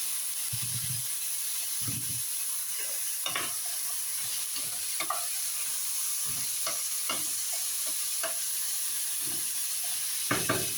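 String beans (sitaw) stir-fried in a pan, with a constant sizzle and hiss broken by repeated scraping stirs at irregular intervals.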